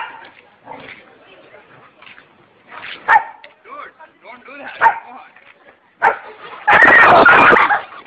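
A dog barks and yips several times in short, loud bursts, with a longer noisy burst near the end, amid excited talking and exclamations from people nearby.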